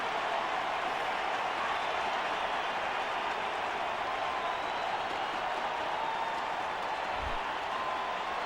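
A stadium crowd at a baseball game in MLB 11: The Show produces a steady, broad roar of cheering that stays even throughout, with no clear individual voices standing out.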